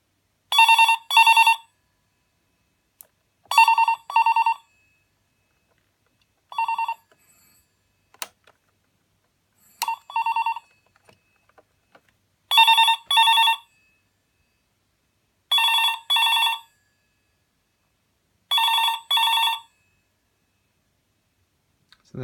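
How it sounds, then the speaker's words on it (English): A BT Minstrel Slimline telephone bell rings in repeated short double bursts, loud and close, with quiet gaps and a few faint clicks between rings. "So there you go, here's the ringer."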